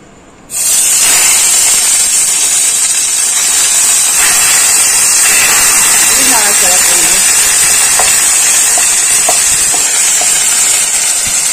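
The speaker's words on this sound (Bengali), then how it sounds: "আমার তেল গরম হয়ে গেছে, আমি বাটাটা দিয়ে দেব।" Ghatkol leaf paste hits hot oil in a pan and bursts into a loud, steady sizzle that holds throughout, with occasional small pops and stirring clicks.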